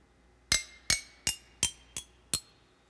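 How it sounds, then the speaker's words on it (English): Six bright, bell-like plucked notes of a Japanese scale from a GarageBand virtual instrument ring out one after another at a steady pace, each decaying quickly, clear and alone. "let's select that Japanese scale and have a listen to it"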